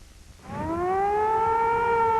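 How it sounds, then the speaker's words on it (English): An air raid siren during the 1991 Gulf War winds up from silence into a loud, rising wail that then holds a sustained tone. "This was the sound that set off the scramble, the air raid sirens"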